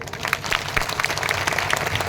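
A crowd at an outdoor pandal gathering in India applauds, a dense burst of clapping from many hands, steady and fairly loud throughout.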